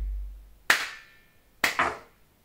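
Hand claps aimed at a JBL Partybox 1000 speaker indoors: one sharp clap, then after a pause a quick double clap, each loud and close with a short ringing tail and quiet between.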